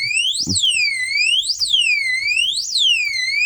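A loud motorcycle anti-theft lock alarm wails in repeating rising-and-falling sweeps, continuous and piercing, with faint handling noise underneath.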